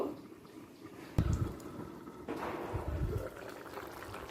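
A covered pot of green peas and potatoes in water bubbles as it starts to boil, a soft liquid churning with two sudden louder surges of splashing; no talk.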